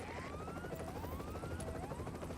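A helicopter lands in a video game, its rotor chopping as a steady pulsing drone, loud and close, with rising whine tones sweeping over it.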